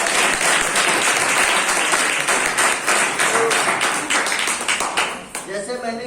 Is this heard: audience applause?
yes